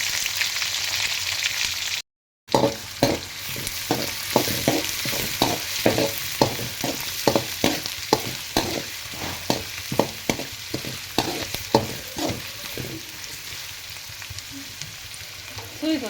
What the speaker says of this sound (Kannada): ಸೊ ಇದು ಸ್ವಲ್ಪ ಆಯಿಲೆಲ್ಲ ಫ್ರೈ ಆಗಲಿ.